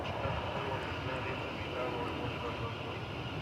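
Airbus A320 airliner on its takeoff roll at DFW Airport, a steady, broad engine roar holding evenly throughout at moderate distance, with faint talk and radio chatter beneath.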